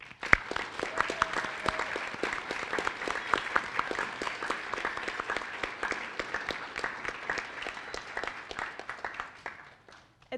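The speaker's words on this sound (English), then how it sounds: "Please join me in thanking them with a round of applause." Sustained applause from an audience at a National Honor Society induction ceremony, dense steady clapping filling the hall for about ten seconds before tapering off at the end.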